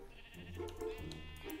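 Sheep in Minecraft bleating in short wavering cries, a couple of close calls rising and falling over a faint game background.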